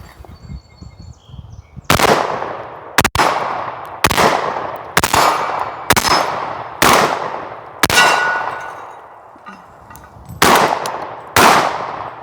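A Mossberg 930 semi-automatic shotgun fires candy cane loads in a string of about nine loud, sharp blasts with ringing metallic decay, spaced roughly a second apart, close and with no talking.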